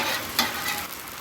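Rolled tacos sizzle in oil on a flat-top griddle, a brief steady crackling fry with a small spike as they are turned.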